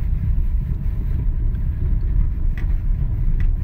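A BYD Seal U fully electric family SUV rolls through mud with a steady low rumble and road noise, a couple of faint higher clicks or knocks near the end, no talking.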